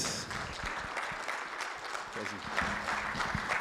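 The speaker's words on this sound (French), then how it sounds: "Je vous demande s'il vous plaît d'applaudir Youssef Boufeid" An audience at a Tunis conference session applauds an introduced speaker, moderately loud and continuous for a few seconds, with some voices and movement mixed in.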